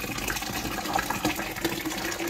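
Cider pouring steadily into a vessel for crashing the temperature down, a continuous close liquid gush filling the whole stretch without talk.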